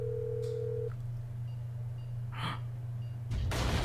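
Phone keypad tones beep briefly over a steady low in-game hum while a number is dialed in Grand Theft Auto V, followed by a louder burst of game sound at the end.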